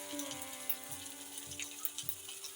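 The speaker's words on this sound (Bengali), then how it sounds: "একটু মশলাগুলো ভালো করে ভেজে নিলাম তেলের উপরে" Spices for a beef tongue bhuna, red chilli powder and coriander powder among them, sizzle and crackle softly in hot oil, a steady quiet frying hiss with light periodic stirring scrapes.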